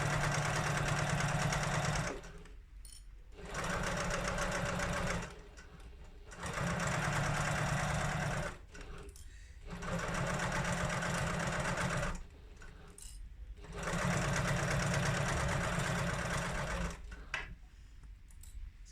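A sewing machine stitches down the side of a crossbody bag strap, running in about five long steady bursts separated by short pauses, loud and close with no speech.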